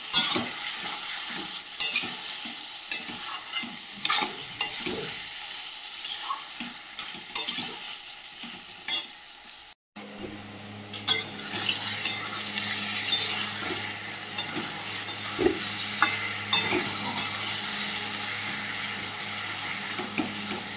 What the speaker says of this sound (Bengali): মাংসটা হলেই হয়ে যাবে। এটা ভালোভাবে কষিয়ে নেব।